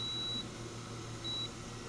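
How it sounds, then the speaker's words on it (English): Two short, high electronic beeps a second apart from a Marsian stud finder wall scanner locating a stud's center, clear over a low steady hum. "So there's center of that stud, and it'll beep."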